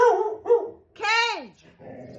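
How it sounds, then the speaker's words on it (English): A pet dog barks and gives a rising yelping whine at close range, loud and excited, in short bursts indoors. "Excuse my dog."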